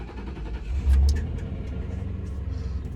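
A Ford Crown Victoria engine cranks briefly and catches, settling into a steady low idle rumble close by, with a slight swell as it fires.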